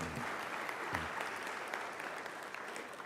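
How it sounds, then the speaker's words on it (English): An audience at student recognition awards claps in a steady, even patter, fairly soft and heard alone for a few seconds. "You can clap for them."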